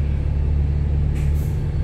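A bus in a Hong Kong traffic jam idles with a low, close engine rumble, broken near the end by a short hiss of released air.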